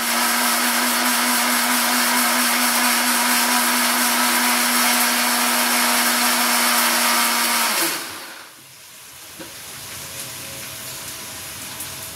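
An electric mixer grinder whirs loudly and steadily while blending poppy seeds with water, then winds down and stops, leaving a quieter background hum.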